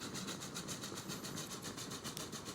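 A freight train in Transport Fever 2 rolls steadily along the track, its engine drone and regular clickety-clack rhythm continuous and even throughout, heard alone.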